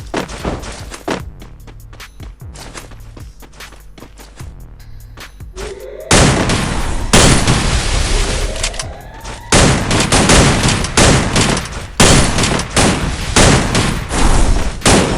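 Gunfire in the Free Fire video game: rapid automatic bursts and single shots, quiet and sparse at first, then loud sustained volleys with booming impacts from about six seconds on, no talking.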